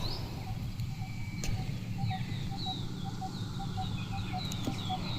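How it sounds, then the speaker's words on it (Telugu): Birds call near farm fields beside a farmhouse, with short, repeated chirps and a rooster's soft clucks over a constant low outdoor hum and hiss, moderately distant, with no talk. "పిట్టలు అరుస్తున్నాయి, ఎంత బాగుంది."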